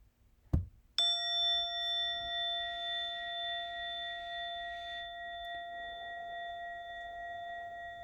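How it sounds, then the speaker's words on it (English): After a brief knock, a bell rings once with a clear, pure tone that hangs and slowly fades over several seconds in a quiet room. "soon you'll hear a bell or a chime. Listen to it as it gets quieter and quieter"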